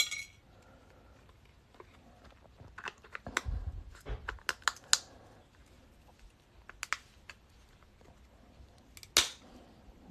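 A graded silver half dollar's hard plastic coin case is pried and cracked open, with scattered sharp clicks, snaps and plastic clatter, irregular and close, over quiet background.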